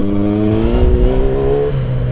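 A 1000cc motorcycle engine revving hard in second gear while lifting into a wheelie, a loud steady roar with rising pitch throughout.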